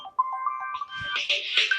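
A phone ringtone plays a short electronic melody of steady tones, then gives way to rustling and muffled shuffling noise.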